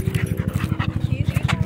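A French Bulldog at a dog park gives quick rhythmic panting and snuffling, close and fairly loud over a brief stretch.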